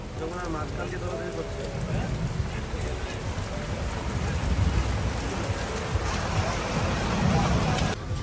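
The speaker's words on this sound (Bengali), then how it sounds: "এখনও কিন্তু বৃষ্টি পড়ছে" Heavy storm rain in Vrindavan patters steadily and close on a surface, a dense hiss with a low rumble beneath it that swells slightly toward the end.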